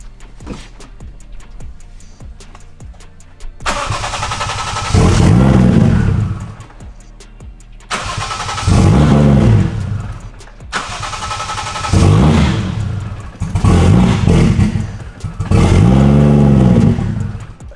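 A Lexus IS300 with a 1JZ engine cranks several times in loud repeated bursts, each a whirring starter churn, before it catches and runs, all close up with no talking.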